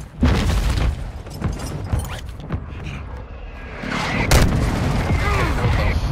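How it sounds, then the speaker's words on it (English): Friendly airstrike explosions in Call of Duty: Black Ops: dense, rumbling blasts and booms close by, with a sharp crack near the end, swelling over continuous battle noise. "Friendly airstrike on the way."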